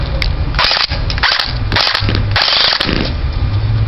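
An airsoft MP5 CQB gun fires on semi-auto in a loud, close run of sharp cracking shots, grouped in quick bursts with short gaps between them.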